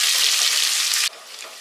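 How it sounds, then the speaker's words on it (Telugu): Sliced onions sizzle loudly in a pan while being fried brown for channa masala, a close, hissing crackle that drops abruptly to a softer simmer near the end. "ఇప్పుడు ఈ ఆనియన్స్ బ్రౌన్ కలర్ వచ్చేలాగా మనము బాగా ఫ్రై చేసుకోవాలి."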